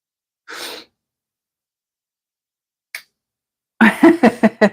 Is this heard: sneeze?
yes